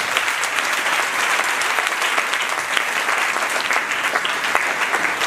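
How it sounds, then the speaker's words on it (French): A church congregation bursts into steady, dense applause that fills the room, loud and sustained throughout with no break. "Si vous êtes d'accord, acclamez le Seigneur."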